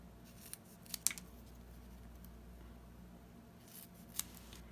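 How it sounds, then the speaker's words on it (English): Scissors snip through squares of foam tape, cutting them into thirds: a few soft, close, crisp clicks and snips scattered over a quiet background. "I'll just get 2 pieces of the squares of foam tape and cut these in thirds."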